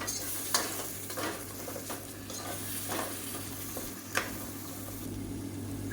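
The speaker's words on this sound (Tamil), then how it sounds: "சேர்த்துட்டு நல்லா எண்ணெய் பிரிஞ்சு வர அளவுக்கு நல்லா வதக்கி விட்டுக்கலாம்" Tomatoes sizzle and sauté in hot oil for a Tamil kuzhambu curry, with a steady frying hiss and a few sharp clicks of a spoon stirring the pan.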